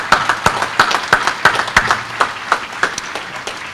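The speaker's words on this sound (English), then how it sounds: "please join me in a round of applause for this wonderful family as well" A round of applause at a U.S. Army Security Assistance Command change of command ceremony, crisp, fairly close clapping with distinct sharp claps in a loose rhythm that gradually thins out toward the end.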